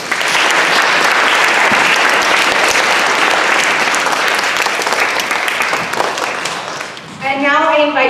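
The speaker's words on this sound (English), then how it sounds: "Let's give the Mandarin students another round of applause." A school audience at a Chinese New Year presentation claps loudly and continuously for Mandarin language students, with applause filling nearly the whole stretch before tapering off and a voice speaking at the end.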